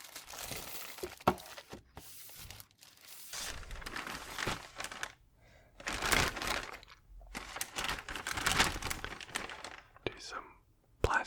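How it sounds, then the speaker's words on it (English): Plastic wrap crinkles and tears as it is pulled off a Hot Toys 501st Trooper action figure box, close and soft in irregular bursts with a pause or two, captured intimately at low volume. "Do some plastic crinkle noises."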